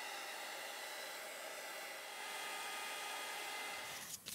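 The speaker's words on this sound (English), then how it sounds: "So I'm just going to dry this off, get the heat tool on it." A heat tool blowing hot air to dry paint on a junk journal page, a steady close whooshing hiss that runs continuously and then cuts off abruptly at the end.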